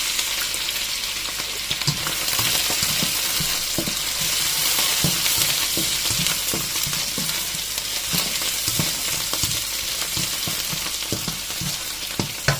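Garlic, onion and sesame seeds sizzling steadily in a hot pan, with a constant frying hiss and repeated scraping stirs of a spatula.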